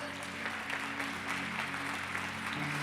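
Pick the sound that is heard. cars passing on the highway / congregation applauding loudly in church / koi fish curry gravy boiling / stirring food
congregation applauding loudly in church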